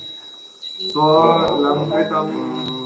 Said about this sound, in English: don't ring the bell too loud